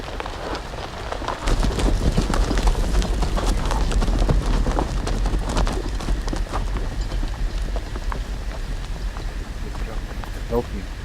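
Horse hooves from a Game of Thrones video game, a busy run of clip-clopping steps buried in a dense, rain-like wash of sound that stays loud and steady throughout, with voices talking over it.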